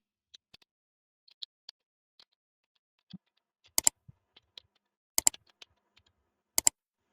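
Quiet, sparse keystrokes on a computer keyboard as text is typed into a document header in word processing software, single clicks with short clusters spread across several seconds and no talking.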